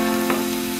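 Capsicum and carrots sauté in a hot pan for vermicelli upma, giving a brief, steady sizzle with a light stirring rustle.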